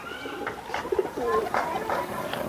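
A pigeon of the tawda breed coos softly a few times nearby, low burbling calls over quiet background noise.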